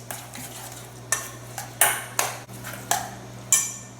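A spoon mixing ricotta and pesto stuffing seasoned with salt and pepper in a bowl, several distinct scraping strokes with light clinks, close by over a steady low hum.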